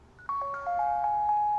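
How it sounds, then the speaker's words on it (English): A Honeywell Lyric alarm keypad plays a door chime: a short melodic sequence of clear electronic tones stepping between pitches, sustained and fairly loud, with no talking. "it is a selectable chime"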